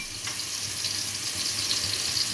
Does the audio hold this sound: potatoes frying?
yes